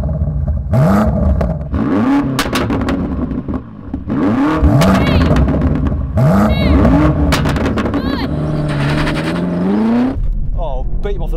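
A BMW M8 and an M5 launch and accelerate hard in a drag race, their engines rising through several loud revving sweeps with gear changes before a long sustained pull. Voices talk over the roar.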